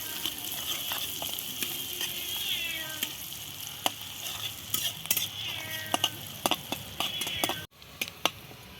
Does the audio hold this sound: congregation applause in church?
no